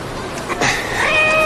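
A short cat meow rises and bends in pitch, heard up close over a faint background hiss, with a steady high tone lingering at the end.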